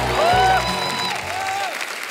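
A studio audience on The Kapil Sharma Show applauds to welcome Parineeti Chopra. Loud clapping mixes with rising and falling whistle-like tones that fade toward the end.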